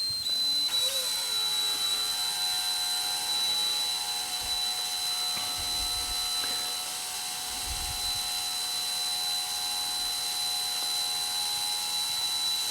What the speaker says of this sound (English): we're going to enter the flame and start the drill